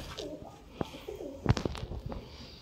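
Wild pigeons offered for sale in Sialkot coo softly in low, throaty phrases, with a few sharper chirps and wing or cage knocks nearby.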